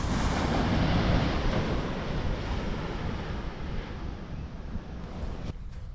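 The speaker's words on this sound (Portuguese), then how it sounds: "Olha aí que espetáculo o nosso Oceano Atlântico" Atlantic Ocean surf rolls onto a beach at São João da Barra, a broad, steady rushing wash with heavy wind buffeting the microphone, continuous and fairly loud before cutting off abruptly near the end.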